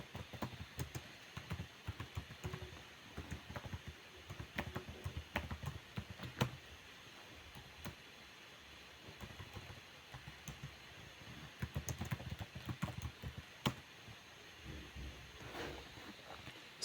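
Router commands are typed on a computer keyboard, a quiet, close run of irregular key clicks and taps that comes in bursts with short pauses between them.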